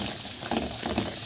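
Onions sizzle in oil or butter in a pan, a dense, hissing fry heard up close and steady throughout, with faint stirring clatter underneath.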